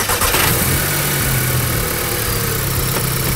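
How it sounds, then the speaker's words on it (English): A cold car engine is started after sitting switched off, then runs at a steady, loud idle rumble for the whole stretch, with no voices over it. "and then start the engine up."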